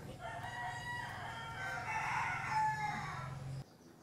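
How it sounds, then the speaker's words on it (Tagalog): A rooster crows loudly and at length nearby, with hens clucking faintly underneath, before it cuts off abruptly. "Pinuntahan ko pala muna itong aking mga manok at pinakain ko muna."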